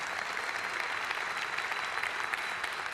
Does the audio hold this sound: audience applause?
yes